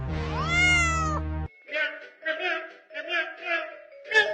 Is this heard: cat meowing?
yes